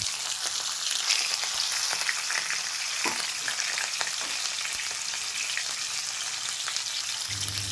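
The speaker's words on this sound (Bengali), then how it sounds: "তেল গরম হয়ে উঠেছে, এবার মাছগুলো দিয়ে দেবো।" Prawns hit hot mustard oil in a kadai, giving a steady, close, full sizzle that runs through the whole stretch, with a few sharper crackles and spits and no voices.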